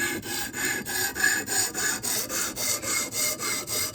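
A knife blade is drawn down a sharpening stone in steady repeated passes, each stroke a close, even rasping rub with a brief pause between, roughly eight strokes in a regular rhythm.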